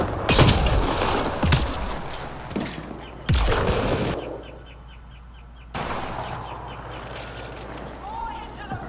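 Gunfire in the video game Mass Effect Andromeda, loud close bursts and single shots amid combat noise, with someone talking over it and a quieter stretch between volleys.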